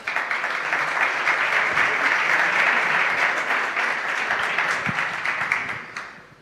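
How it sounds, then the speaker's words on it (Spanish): An audience applauds the mayor at a live tribute event for a football club legend, a dense sustained round of clapping that fades out at the end. "Un aplauso para el alcalde."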